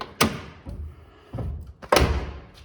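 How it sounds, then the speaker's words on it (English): Heavy car doors thudding shut one after another on a 1968 Oldsmobile Vista Cruiser station wagon, three solid slams spaced a little apart, close and loud with nobody talking. "All four doors shut perfectly."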